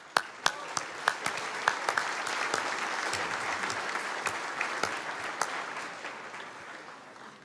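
A large crowd applauds heavyweight boxer Vladimir Klitschko, steady dense clapping across the whole stretch with a few sharper individual claps standing out early on, loud and close.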